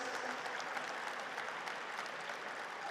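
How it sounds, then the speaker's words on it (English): Sustained applause from an awards ceremony audience, steady and dense throughout at a moderate distance, with no voices rising above it. "Just a huge round of applause to Burnley College for making that"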